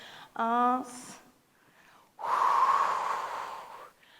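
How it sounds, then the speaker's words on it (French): A strong, breathy exhale lasting well over a second during a Pilates ball workout, preceded by an instructor's voice and followed by a short pause before more speech. "Et soufflez encore."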